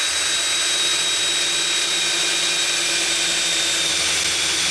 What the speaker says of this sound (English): We'll just drill a hole somewhere here.